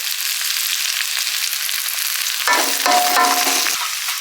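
Potatoes frying in hot oil for a silver cup fish and long eggplant curry, a steady close sizzle that swells louder and busier midway as more goes into the pan, with no talking.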